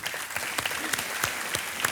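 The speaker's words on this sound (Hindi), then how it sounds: "तालियां बज जाएं इनके लिए" A television quiz-show studio audience applauds, with sharp individual claps standing out over a continuous wash of clapping that holds at an even level throughout.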